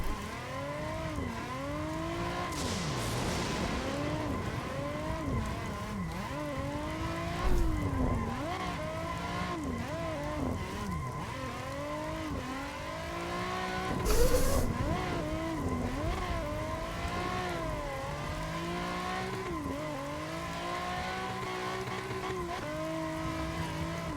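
A Nissan 350Z drifts around a track with its engine revving hard and steadily, climbing and falling in pitch through repeated shifts. Tire squeal builds through the slides and sharp bumps land around the spins.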